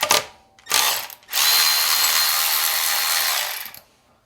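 Milwaukee M12 cordless 3/8-inch ratchet whirring in two short bursts, then a longer steady run of about two seconds as it kicks out on a bolt that is too tight, loud and close with no talking.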